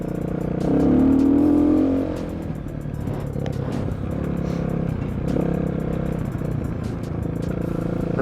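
A 250cc dirt bike engine revs hard up close in deep mud, with a loud surge early on, then keeps droning and sputtering at varying throttle.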